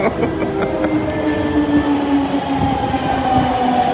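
A Delhi Metro train rumbles loudly and continuously, with steady droning tones and faint rhythmic rattling of the carriages, no voices.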